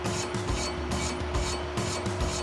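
Steady rasping cut of an MSC lathe turning down the front and rear counterweights of a crankshaft for a 427ci small block, continuous and close with a faint constant whine, no voices.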